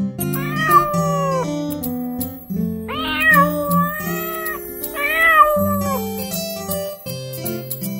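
A cartoon cat meows repeatedly in a French children's song, with long, stretched, sung meows rising and falling in a few phrases over a bouncy musical backing.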